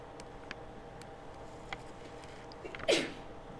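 One short, sharp sneeze bursts out near the end of a quiet lecture room recording, preceded by faint ticks and small rustles, with no talking.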